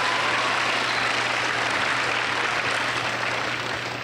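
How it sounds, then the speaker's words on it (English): An audience at an Alaska school opening ceremony applauds, a broad, even wash of clapping that holds steady and tapers slightly at the end, with a low hum underneath. "Applaud that, applaud"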